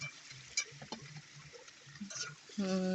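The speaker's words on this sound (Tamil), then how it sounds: "நம்ம வெங்காயம் போட்டுக்கலாம் அது கூடவே பச்சை மிளகாவும் கருவேப்பிலையும் போட்டு நல்லா வதக்கலாம்" Onion, green chili and curry leaves tossed in a pan after mustard seeds pop, a spoon scraping and stirring in short strokes, ending in a louder, steady sizzle.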